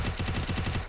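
Rapid burst of gunfire in a video game, about eight quick evenly spaced shots in one second, loud and close like an automatic weapon.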